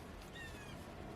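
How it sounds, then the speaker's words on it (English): A house cat gives a brief, faint meow in a quiet room where someone is crocheting, with low background hiss and no talking. "Sorry, that is my cat."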